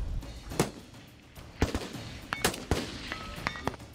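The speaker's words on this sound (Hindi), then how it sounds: "पुतिन ने गोलियां बरसाई।" Scattered sharp rifle gunshots, single and in quick pairs, cracking out irregularly over a low background rumble.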